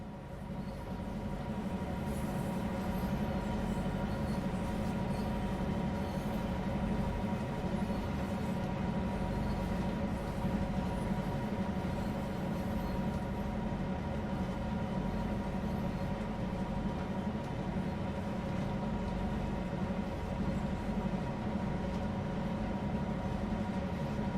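A Canadian National GP9RM diesel locomotive in Train Sim World on the Oakville Subdivision drones steadily with a constant low rumble and hum, unchanging and alone throughout.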